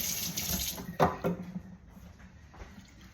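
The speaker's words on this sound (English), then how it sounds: "I'm going to have to wash my hands because they're very greasy now for obvious reasons." Running tap water while someone washes greasy hands at a kitchen sink after smoking salmon, a steady splashing flow broken by a few louder splatters as the hands move under the stream.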